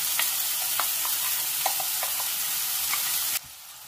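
Steady frying sizzle as ground chutney is added to hot oil with popped mustard seeds, scattered crackles and pops, fairly close, then abruptly quieter near the end.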